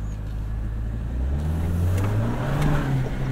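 A 2024 Toyota Land Cruiser with a turbo hybrid powertrain accelerating off road, the engine drone climbing steadily in pitch over a broad cabin rumble.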